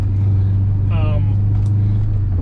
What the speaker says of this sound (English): So we're driving this car